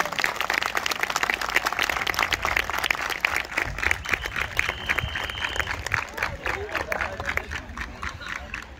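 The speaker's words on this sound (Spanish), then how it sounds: "Fuerte aplauso." Dense applause from a large crowd at a marching band awards ceremony, steady and sustained, with cheering and chatter mixed in throughout.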